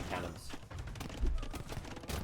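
Hand cannon gunpowder units fire in an Age of Empires II match between Romans and Lithuanians on Valley, with dense overlapping volleys and crackling battle noise throughout. A player talks over the gunfire.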